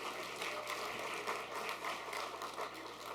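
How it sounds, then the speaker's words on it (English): Soft, scattered applause from a modest audience at a Nantucket history quiz bowl, light clapping continuing steadily over a faint room hum. "A little bit of applause."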